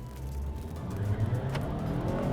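Unloaded 2022 Ford Maverick EcoBoost accelerating, heard from inside the cabin as a steady, moderately loud engine drone with road rumble that holds throughout, no talking.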